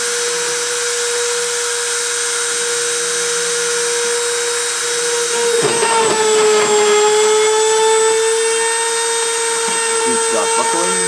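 A CNC spindle spins at 30,000 RPM during a deposition run, a loud steady high-pitched whine with tonal overtones that holds throughout, shifting slightly as the tool makes contact partway through.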